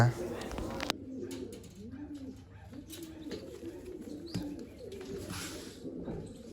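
Pigeons and pigeon chicks coo in repeated rolling phrases near the listener, opening with a sharp clatter, while someone talks intermittently over the birds.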